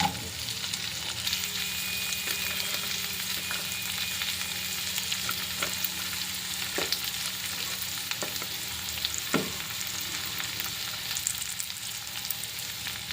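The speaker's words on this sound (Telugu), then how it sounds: "ఇలా అన్ని కూరగాయలు వేసుకొని బాగా కలుపుకోవాలి ఇవన్నీ కొద్దిగా వేగాలి" Beans, carrot and capsicum fry in a kadai with a steady, moderate sizzle. Occasional clinks and scrapes of stirring sit over a faint low hum throughout.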